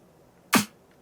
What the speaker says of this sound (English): So we made a snare sound like this.